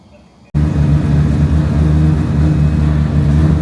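An FD car's engine fires up after a moment of near silence and settles into a loud, steady, rumbling run close by.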